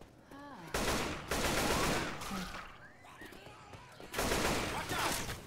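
Gunfire in the video game Left 4 Dead, bursts of rapid automatic shots in several loud clusters with quieter gaps between them, mixed with other game effects.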